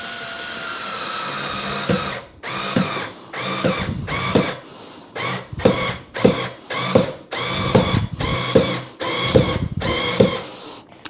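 A power driver sinking screws into a van mount, whirring in repeated short bursts of one to two seconds separated by brief pauses, loud and close, with the motor pitch straining as each screw tightens.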